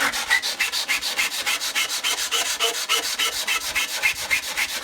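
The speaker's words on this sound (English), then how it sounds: "we can sand the edges and get a lovely clean radius finish" Hand sanding the edges of a Tamiya 1/10 RC GR Yaris body shell with rolled-up sandpaper: fast, even back-and-forth rasping strokes, about four per second, close and loud, with no voices.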